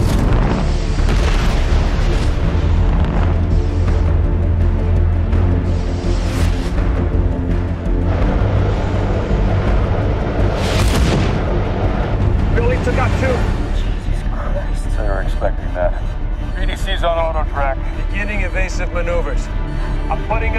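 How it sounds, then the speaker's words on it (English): A spaceship fires torpedoes during a TV space battle, with loud rumbling booms and bursts over a dense, continuous score, ending in brighter whooshing effects. "Firing torpedoes."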